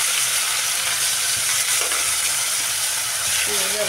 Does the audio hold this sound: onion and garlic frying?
yes